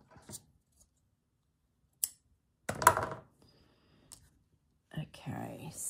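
Scissors snip stitching thread on a handmade art journal, giving a few sharp, separate cuts spaced across a quiet stretch, followed by soft rustling and a voice near the end.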